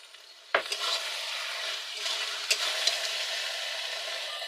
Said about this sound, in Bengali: দিয়ে আমি ভালো করে আধ ঘন্টা কষিয়ে নেব, যতক্ষণ না মাংস থেকে তেলটা ছাড়ছে।